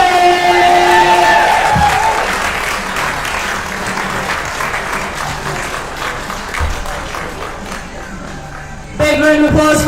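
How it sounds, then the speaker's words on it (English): Crowd applause and cheering at a Masters Open 2025 weightlifting medal ceremony for a 63 kg class gold medalist, loud and sustained, with a voice over a PA and a sharp burst of louder clapping near the end. "Big round of applause for Leslie."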